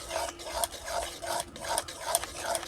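Pointed gourd with yogurt is stirred and sautéed in a pan, heard as rhythmic scraping strokes about every half second. The steady rasp is close and fairly quiet over a soft background sizzle.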